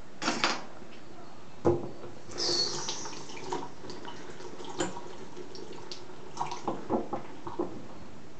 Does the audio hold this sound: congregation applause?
no